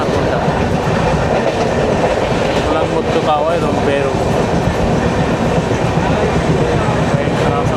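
A passenger train rolls through monsoon-season Kerala, heard from on board as a constant loud rumble with rhythmic clickety-clack of wheels over rail joints, while someone speaks briefly over the noise.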